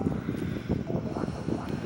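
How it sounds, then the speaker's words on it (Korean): An electric fan runs close by on a hot day, giving a steady, soft whooshing hum that stays even for the whole stretch, with no voices over it. "선풍기 좀 틀겠습니다."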